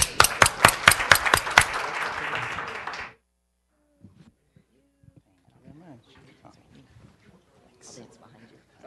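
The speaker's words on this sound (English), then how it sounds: "could we have a very warm welcome and a warm applause for Xmatic to come up" Audience at a Canada China Club competition event claps in welcome for a presenting company, a short burst of sharp, close claps that stops abruptly after about three seconds, followed by near silence with faint scattered sounds and low voices.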